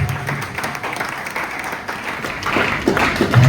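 Applause rises from a church congregation during an evangelical service, with scattered clapping and crowd noise that builds toward the end, mixed with faint voices.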